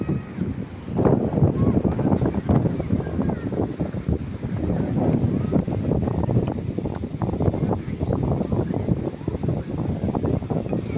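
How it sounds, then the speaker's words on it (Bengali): Strong wind at Paradip sea beach roars continuously into the microphone as loud, rough buffeting rumble, with surf noise mixed underneath and no clear speech. "এই যে দেখো, হ্যাঁ হাওয়া, প্রচুর হাওয়া। সাউন্ড আসছে কিনা জানি না।"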